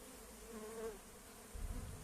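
Bees at an apiary, a faint, steady insect buzz with a wavering drone swelling near one second, set against quiet outdoor background.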